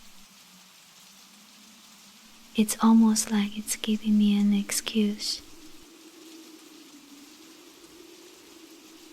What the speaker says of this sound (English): Let the rain take its time.